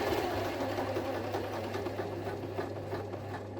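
A Janome Rubina 888 sewing machine stitches through 20 stacked layers of fabric with a fast, even mechanical whirr and a steady motor hum, close and alone.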